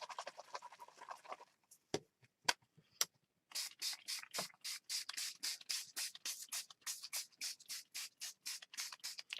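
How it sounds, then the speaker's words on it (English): Tattered Angels colour mist sprays in quick repeated pumps around a junk journal page, a rapid series of short, close hisses after some quiet rubbing and a few taps. "so I sprayed all the way around"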